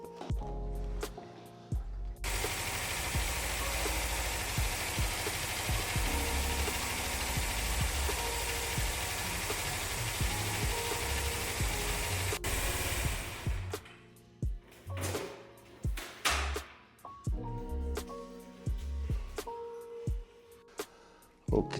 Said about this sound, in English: So first we need to warm the engine up a bit so that the oil gets nice.